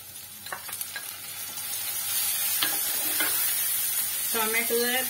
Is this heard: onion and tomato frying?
yes